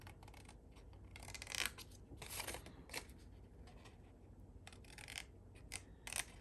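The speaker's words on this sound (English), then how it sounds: "I'm just going to cut right there to that dotted line on each of them." Scissors cutting paper along a dotted line for mini file folders in a craft project, several faint, short snipping and rustling bursts over a steady low hiss.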